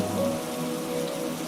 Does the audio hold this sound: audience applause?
no